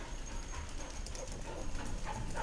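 A dog whimpering and giving short yips indoors near a piano, faint and close, mixed with light movement noise and no speech.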